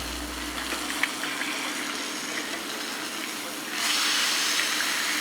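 Steaks sear in a cast iron skillet and a stainless steel pan, giving a steady, moderately loud hiss and sizzle that grows slightly louder partway through.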